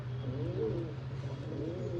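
Pigeons from a kept flock coo softly in two low, rolling phrases over a steady hum, moderately close, with no talking.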